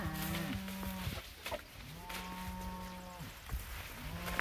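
Cattle in a mob grazing a weedy cocklebur pasture moo repeatedly, several long drawn-out calls overlapping at close to mid distance, with no talking over them.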